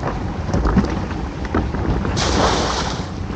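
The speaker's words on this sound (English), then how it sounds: "I'm going to have to keep the camera tilted quite far down because it's chucking it down with the rain" Heavy rain pours down on a fishing boat hauling crab and lobster pots at sea, a loud, continuous roar of drops with occasional louder splashes and gusts, and no talking.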